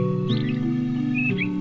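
Two small thrushes chirping beside an injured small bird: brief high chirps over a steady, tonal background that sounds like music.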